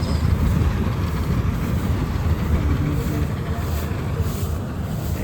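A harvester machine runs close by with a loud, continuous rumble and an even mechanical clatter that holds steady throughout.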